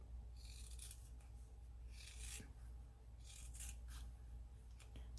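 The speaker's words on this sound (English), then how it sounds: "I'm just going to cut" Scissors snip through fabric for a patchwork junk journal, a few close, dry cutting bursts spaced irregularly over a steady low room hum, with no talking.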